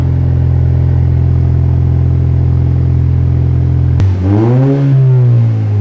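Lexus IS 300 engine with a new exhaust, a steady loud idle drone that suddenly jumps into a sharp rev, its pitch climbing and falling, close and alone without talking.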